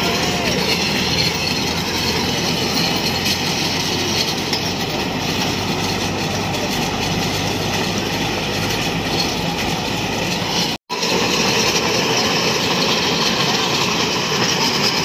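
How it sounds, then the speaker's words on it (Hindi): A small amusement train for children runs a circuit around a ground, giving a steady, loud rolling rumble and rattle of its wagons that continues almost without pause, with a brief dropout near the end. "ग्राउंड का चक्कर लगाती दोस्तों ये ट्रेन यहाँ से।"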